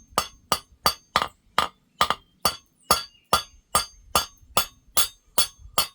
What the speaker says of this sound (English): So that's just texture, you know, hammer finishing.